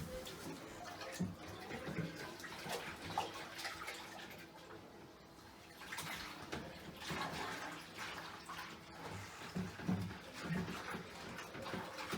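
Water swirls inside a five-gallon homebrew bucket as beer is readied for bottling, sloshing and rushing in uneven surges with brief quieter gaps, close by indoors.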